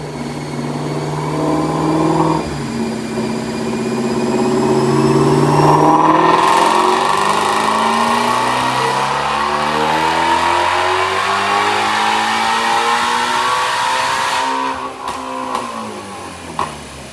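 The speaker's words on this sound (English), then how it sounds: "Check out this dyno pull." Supercharged 2019 Ford Mustang GT350 on a dyno, revving up in a long sustained pull, rising in pitch to a loud whining peak before dropping off abruptly, close and alone.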